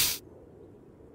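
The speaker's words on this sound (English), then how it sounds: "But there's a loud spray." A cleaning spray in the Into the Radius video game gives one short, loud hissing burst at the start, then cuts to a faint low ambient hum.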